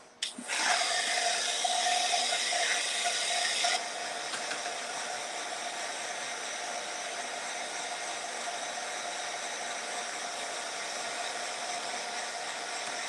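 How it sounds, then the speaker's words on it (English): A heat tool used for crafting switches on with a click and blows a steady, close whooshing roar. After a few seconds it drops to a lower, continuous hiss that holds to the end. "Drying tool."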